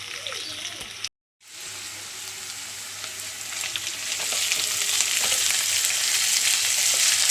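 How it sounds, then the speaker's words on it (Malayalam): Garlic, ginger, green chilies and curry leaves frying in a hot pan, a bright continuous sizzle that briefly cuts out, then returns and grows louder and fuller, with occasional stirring. "വെല്ലുള്ളി ഇഞ്ചി പച്ചമുളക് വേപ്പിൻ്റെ ഇല വെല്ലുള്ളി വാടി വരട്ടെ"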